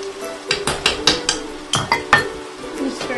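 Spoon scraping and clattering through sauteed eggplant and meat with tomato paste in a pan, a run of sharp, close clinks and scrapes in an uneven rhythm over a faint sizzle.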